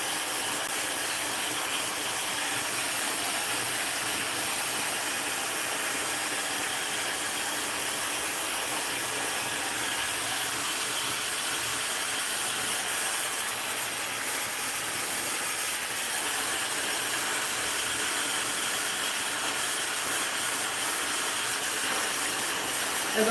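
A hair dryer fitted with a diffuser blows steadily and loudly at close range, a continuous broadband airflow roar lasting throughout.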